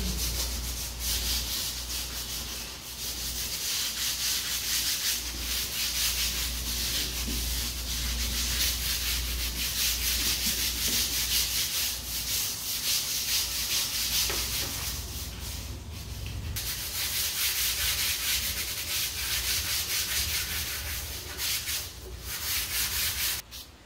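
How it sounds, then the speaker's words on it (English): Continuous, close hand sanding of a wooden door, a rough scratchy rasp of sandpaper on wood with steady back-and-forth strokes and brief pauses, no talking. "give the doors a quick sanding just to roughen them up"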